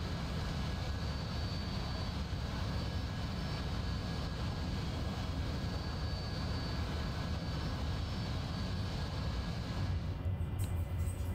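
An AV-8B Harrier jet engine in a flight simulator game roars as a steady, dense, unbroken drone that fills the whole stretch at an even level, with no talking over it.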